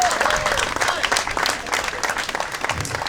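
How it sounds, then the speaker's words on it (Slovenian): An audience at a Slovenian regional political party members' meeting breaks into dense, steady applause, many hands clapping close by for about three seconds. "Aplavz."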